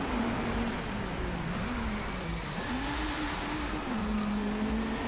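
Race car in Driveclub driving on a slippery, waterlogged wet track, a steady loud engine drone whose pitch rises and dips with throttle, wrapped in constant spray and road hiss.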